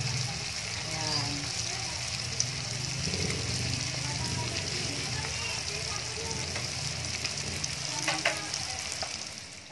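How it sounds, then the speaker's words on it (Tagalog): Lumpiang toge, bean sprout spring rolls with corned beef, frying in hot oil give a steady close sizzle with bubbling crackles and occasional scraping stirs, while someone talks quietly over it. "Ipirito pa natin yung iba pang mga natira hanggang sa maubos"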